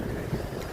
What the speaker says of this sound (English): Warm and windy.